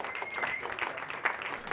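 Brief burst of audience applause at a live science radio broadcast from a bicycle festival, a crowd clapping steadily with voices cheering over it.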